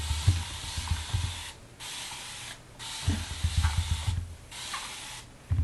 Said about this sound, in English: I'm gonna get my spray bottle with water and just mist this just with some water